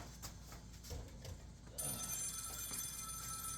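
A telephone rings inside a comic-book collector's hangout, its bell tones starting softly and then sharpening into a bright, steady, close ring after a short pause, heard alone with no talk.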